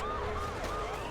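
A wailing police siren in the video game Saints Row: The Third fills the whole clip, loud and steady with sweeping pitch, like a police car right nearby.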